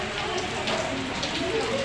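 Heavy, steady rain pours without a break in Lian, Batangas, a dense close hiss of drops on surfaces filling the whole moment.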